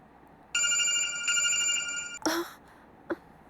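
An incoming call sets a mobile phone ringing with a bright electronic tone pattern for about two seconds, cut off by a sharp clatter and followed by a brief click.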